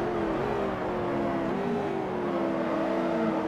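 Corvette Z06 Cup race cars at Road America, engines droning and shifting pitch continuously as they race past at a moderate distance, with no talk.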